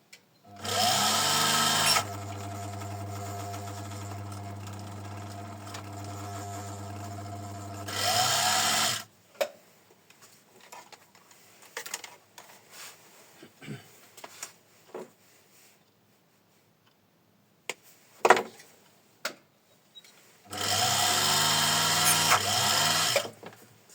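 Homemade cable stripper driven by an electric motor: a loud steady motor whine runs for several seconds, stops, and gives way to quiet clicks and scattered handling noises, then the motor whirs up again near the end.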